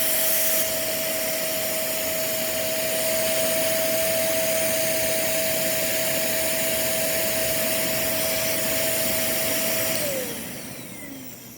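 A Shark Ultra vacuum cleaner runs loud and steady with a constant whine and rushing airflow during an airflow test, then its pitch drops as it begins to wind down near the end.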